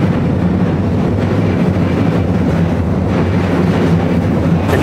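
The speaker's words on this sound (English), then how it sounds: "It runs right underneath the train tracks, and inside, it's so loud and crazy when the train comes through." Train rumbling over elevated tracks above a narrow Tokyo alley market, a loud steady low roar with rattling that fills the whole stretch and drowns out everything else.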